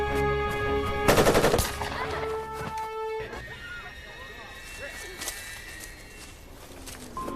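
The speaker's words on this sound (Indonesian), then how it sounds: "Tak lama kemudian, Brooke terkena tembakan dari Gary." Gunfire in a psychopath thriller on a deserted island, a sharp rapid burst of shots early followed by a lone later crack, loud against ringing music, with a voice speaking over it.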